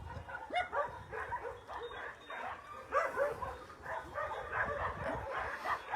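Dogs at an animal shelter bark, yip and whimper in repeated short bursts, fairly faint and set a little back, with no talking over them.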